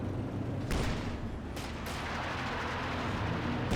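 Artillery barrage in the WWII strategy game Company of Heroes 2, muffled booming impacts rolling over a dense rumbling battlefield background, with a couple of sharper blasts standing out.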